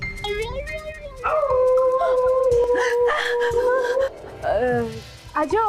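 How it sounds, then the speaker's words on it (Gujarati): A dog gives drawn-out howling whines with rising and falling pitch, fairly loud and close, broken by short pauses, while a person briefly speaks. "કૂતરાનો ભસવાનો અવાજ હતો."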